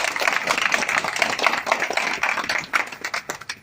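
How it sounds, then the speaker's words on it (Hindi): An audience at a gathering of company agents claps together, a dense patter of many hands that runs steady, then thins into looser, scattered claps toward the end. "अगर ये सही हो तो ताली बजा दो"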